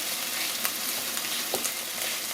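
Tomato paste being stirred into a sizzling shepherd's pie filling in a pan, a steady hiss of frying with faint scraping strokes of the spoon, close and continuous with no voice.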